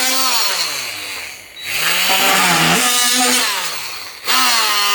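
A Ryobi One+ 18V oscillating multi tool plunge cuts an electrical box cutout, its loud buzzing drone rising and sagging in pitch as the blade bites. The motor bogs down twice in the short burst.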